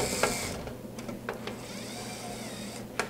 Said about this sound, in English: if you're using an electric screw gun like I am, be careful you don't over torque the thing